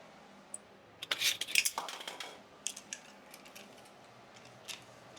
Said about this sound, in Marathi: आता आपण याच्यावरती कुकरचं झाकण ठेवून घेणार आहोत.